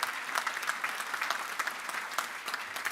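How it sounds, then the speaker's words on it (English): A university graduation audience claps together in a large hall, sustained dense applause at moderate loudness with no talking over it. "So could you give all those a round of applause?"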